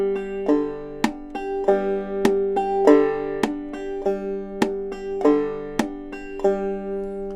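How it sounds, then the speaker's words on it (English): Clawhammer banjo played alone, with the picking thumb slapping the drum head on the beat, giving sharp percussive knocks amid the ringing notes in a steady rhythm. "You'll hear my thumb come into the head, creating a drum sound on that particular beat"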